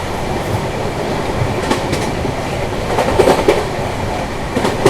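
A Bihar Sampark Kranti passenger train runs steadily on its New Delhi to Darbhanga route, a continuous loud rumble with rhythmic clickety-clack of wagon wheels over rail joints and a few brief metallic squeals.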